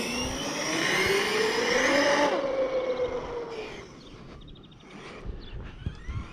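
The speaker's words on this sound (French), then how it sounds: "On entend aussi le son de la machine qui devient un peu plus rugueux." A Traxxas Sledge RC car's electric motor whines loudly and rises in pitch, sounding rough and buzzy, then cuts off abruptly, leaving faint lower motor noise and small mechanical clicks.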